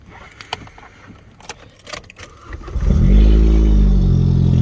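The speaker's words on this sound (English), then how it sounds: "We're just gonna turn on our Cruze here." A Chevrolet Cruze with an aftermarket exhaust starts up nearby after a few key jangles, the engine catching at once into a loud, deep, steady idle rumble.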